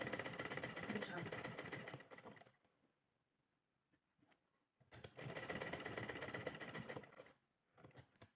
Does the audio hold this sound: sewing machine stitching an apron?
yes